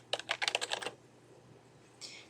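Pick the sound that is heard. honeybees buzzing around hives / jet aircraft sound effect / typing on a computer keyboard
typing on a computer keyboard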